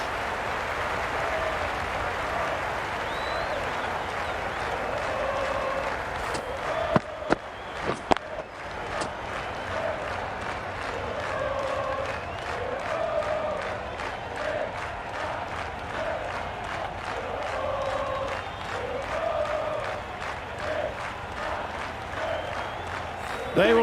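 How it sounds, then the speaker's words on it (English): Spectators at an Ashes Test cricket match applaud a dismissed batter after a supreme innings. The steady, sustained ovation fills the ground while a commentator keeps talking over it. "They will receive now the warmest of receptions from this crowd for a supreme display of batting"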